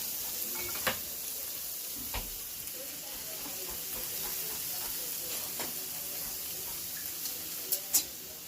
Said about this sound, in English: you have to add your pasta and then your egg mixture